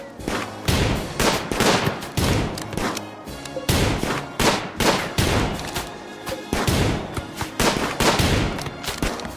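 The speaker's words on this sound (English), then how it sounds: "The raiders persisted with their continuous gunfire" Raiders fire continuously in the video game Rimworld, a loud, rapid string of gunshots in repeated dense bursts that fills the whole stretch with no pauses of note.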